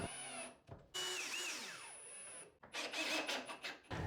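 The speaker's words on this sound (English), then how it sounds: "I opted to drill one more hole on each end and add 2 more screws" A power drill drives extra screw holes into a heavy basement door, whirring in two close bursts with a rising then falling motor pitch and a short pause between them.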